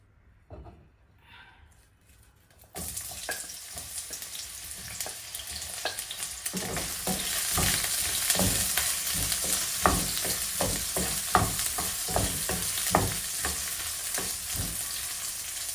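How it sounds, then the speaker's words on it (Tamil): Onions drop into hot oil after a quiet start with a few faint noises, and a loud sizzle erupts and holds steady, with crackling pops and stirring knocks scattered over it. "எண்ணெய் சூடாயிட்டுது. இப்போ நான் இந்த வெங்காயங்களை எல்லாம் போட போகிறேன்."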